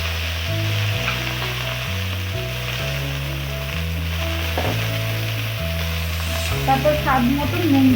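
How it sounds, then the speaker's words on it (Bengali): Bitter gourd and potato slices frying in oil with dried red chilli and nigella seeds, a steady close sizzle with occasional stirring scrapes throughout, no voices. "তারপরে যাবে উচ্ছে আলু ভাজা হবে।"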